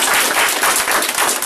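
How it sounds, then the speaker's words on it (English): Sustained audience applause at a community Garvey Day gathering in Chicago, dense steady clapping from a crowd filling the hall throughout, loud and close with no talk over it. "Come on, clap it up."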